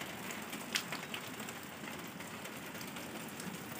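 Heavy monsoon rain falls steadily as a dense, even hiss of drops on surfaces, fairly distant and soft with a few louder splashes, and no voices in the clip.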